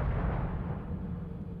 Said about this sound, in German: Diese Explosion hätte einen Troll im PCP-Rausch getötet.